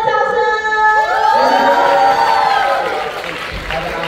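Audience at a post-screening session at the Kaohsiung Film Festival cheering and clapping, a loud crowd roar with shouts and rising whoops, fading near the end.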